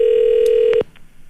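A telephone call placed during a live morning radio call-in show: a steady dial tone holds, then a few quick keypad beeps cut it off, leaving faint room noise.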